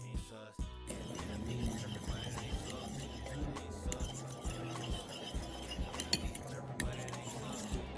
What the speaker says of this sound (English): Now we will take our fork and you will stir the cheese and the eggs together.